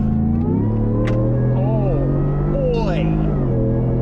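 A 2026 Hennessey Venom 800 pickup accelerates hard up a highway on-ramp, with a deep, steady engine drone climbing through its gears. Someone speaks briefly over the engine.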